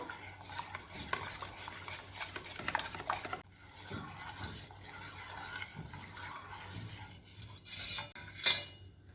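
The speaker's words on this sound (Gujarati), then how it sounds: "હવે આ બધું મિક્સ કરી અને બરાબર હલાવી દઈશું।" A spoon stirs Nescafé coffee powder into a cold coco drink, giving quick, continuous scraping and clinking against the glass or bowl, close and soft, ending with a brighter clink.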